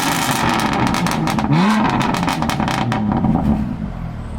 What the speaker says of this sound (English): Danny's gonna rev it for us.